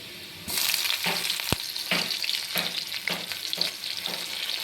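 Chopped garlic and green chilli frying in hot oil in a pan for a soya chilli dish, with a steady loud sizzle and several rhythmic stirring scrapes, no voices.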